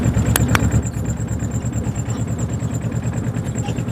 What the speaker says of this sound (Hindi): गाड़ी चल रही है, और चलती गाड़ी में भी कैसी इसकी आवाज़ आ रही है।